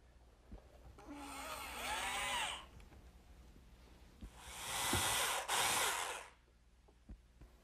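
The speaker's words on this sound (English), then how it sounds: "they'll be glued and fastened together with some screws" A power drill drives screws into a wooden cabinet face frame in two bursts of whirring, each rising in pitch as the screw seats, with light knocks and handling noises between; close and fairly quiet.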